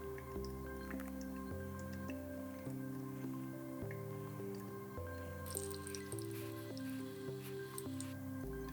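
Quiet, steady dripping of coffee through a paper filter, with soft intermittent drops over a faint background hum, close and gentle throughout.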